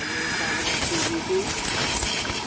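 Compressed air hisses in sharp, bursting sprays over fuel parts of a Yamaha Mio S40 scooter, loud and near, with a voice faintly present.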